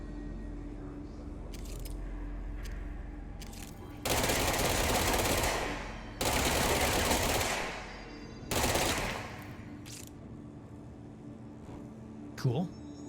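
Automatic weapon bursts from the Control video game: three long, loud, close volleys of rapid fire separated by short pauses, with quieter game sounds and a faint background hum between them.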